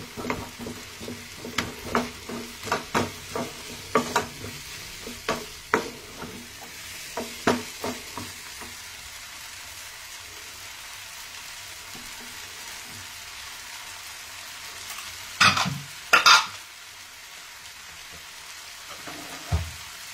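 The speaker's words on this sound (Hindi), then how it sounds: "अब हमारे टमाटर 2 मिनट में पकने वाले हैं" Tomatoes fry in a pan while a spoon stirs them, giving a steady soft sizzle with a quick run of scraping, clattering strokes, then quieter sizzling and a few louder knocks near the end.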